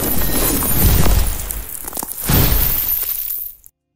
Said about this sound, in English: Playing from the beginning, everything sounds like this.